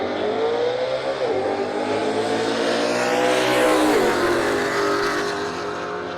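A car engine with a Whipple Gen 5 Stage 2 supercharger on pump gas revs up at launch with a rising whine, holds a high roaring pitch, then drops and climbs again, loud and close.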